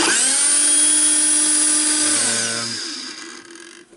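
A Hilti TE 706-AVR rotary hammer, just repaired after a burned field, runs loud and steady with a high motor whine and hammering rattle, then spins down and fades near the end; one brief spoken word.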